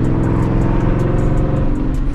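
A Ford Mustang GT 5.0 S550 with its exhaust in track mode idles in a loud, deep, steady rumble with a burbling pulse, heard close up.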